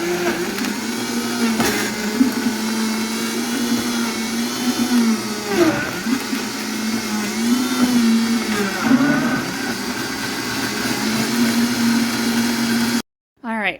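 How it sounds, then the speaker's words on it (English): A Ninja-type blender pureeing whole tomatoes with their peels for spaghetti sauce, a steady loud whirring motor drone with shifting pitch as the contents churn, running continuously before stopping abruptly at the end. "You've got your tomatoes in your blender, and now you blend it up"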